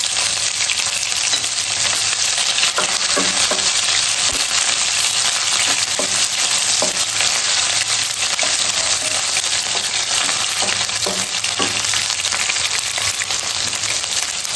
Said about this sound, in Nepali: जिरा र खुर्सानी रातो रातो भएको छ। अब म यसमा प्याज राख्छु।